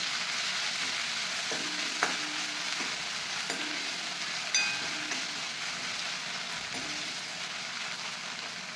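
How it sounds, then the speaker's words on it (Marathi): Garlic and green chilies fry in hot oil with cumin seeds, a dense close sizzle with occasional spatters and a few light stirring knocks, steady throughout and without speech. "हिरवी मिरची चांगलं भाजून घ्यायचे तेलात"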